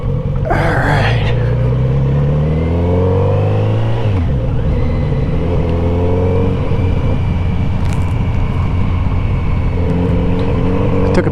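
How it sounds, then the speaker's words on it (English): A Kawasaki Z900RS motorcycle engine rumbles steadily while riding downhill on a West Virginia backroad, its pitch rising and falling through gear changes, loud and close throughout with constant wind and road noise. "Love the sound of this bike."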